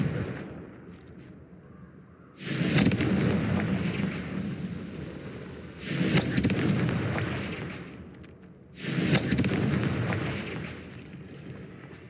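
Three heavy fiery blasts from the Confringo spell in Hogwarts Legacy erupt at regular intervals, each a loud roaring burst that decays slowly over a low rumbling background.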